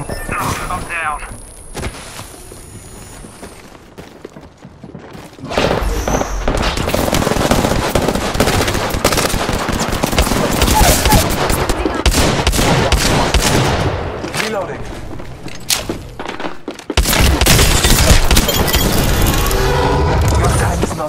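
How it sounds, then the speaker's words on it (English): Gunfire in Apex Legends, with rapid close bursts and crackling shots rattling loudly through most of the stretch, and voices talking over the shooting. "Joker shooting at me"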